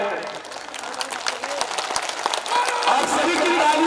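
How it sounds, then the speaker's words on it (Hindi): A rally crowd claps in sustained applause that builds louder toward the end, with a voice speaking over it. "आप सभी की तालियों की गड़गड़ाहट के साथ अभिभूत होते हुए"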